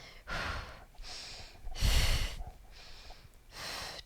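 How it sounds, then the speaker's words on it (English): Heavy, rhythmic breathing during a Pilates workout: several forceful exhales and sharp inhales close to the microphone, like someone working hard during exercise. "Lots of breathing here."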